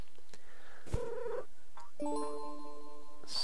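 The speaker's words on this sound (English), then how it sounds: "Oh, I have a kitty cat." A pet cat in a house inside a video game gives a short meow and purr, followed by bright chiming game tones in a rising and falling pattern, all fairly quiet with no talking.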